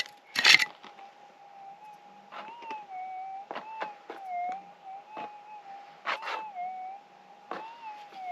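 A gold-nugget metal detector sweeping an old patch sounds off a hot rock: a steady wavering tone runs throughout, broken by several short sharp clicks and knocks, with a louder burst near the start.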